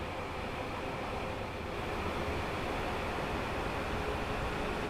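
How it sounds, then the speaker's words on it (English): A Class 700 electric multiple unit passing in Train Sim World 4, a steady, loud rolling rumble and hiss of the train going by, continuous through the clip with a slight swell midway, no talk. "Class 700 going past."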